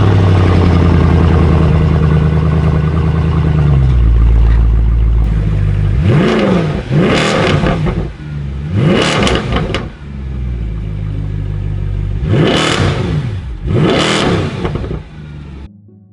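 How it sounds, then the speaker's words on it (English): A Mercedes-Benz C63 AMG Black Series, with a valve-controlled chrome-tipped quad exhaust, idles loudly and then gives four sharp revs in two pairs, each rising and falling back to a deep, close idle. "The monstrous chrome-tipped quad exhaust is valve controlled"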